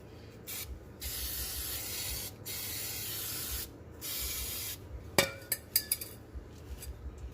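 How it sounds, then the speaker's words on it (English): Brake cleaner hisses from an aerosol can in several long bursts onto a dirty Subaru axle shaft, followed by light clinks and taps of handling the part and rag nearby; no talking. "we're gonna use a rag and brake clean to clean this"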